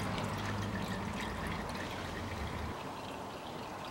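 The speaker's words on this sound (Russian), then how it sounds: "Пока у нас течет масло" Engine oil drains from a 2012 Nissan Qashqai 1.6 in a continuous, close pouring trickle that stays steady throughout.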